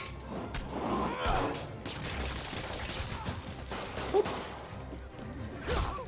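Thugs fire guns in the Marvel's Spider-Man video game: a scattered burst of gunshots and clattering impacts, with a sharp crack partway through, against dense, busy game ambience.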